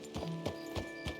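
Horse hooves clip-clop in Red Dead Redemption 2, four evenly spaced, fairly quiet hoofbeats at a walking pace.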